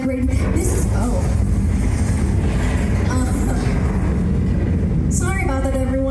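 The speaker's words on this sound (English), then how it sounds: "We are prone to earthquakes." A simulated earthquake shakes the San Francisco set on the Universal Studios tram tour, producing a loud, continuous rumbling roar with rattling bursts and voices calling out over it.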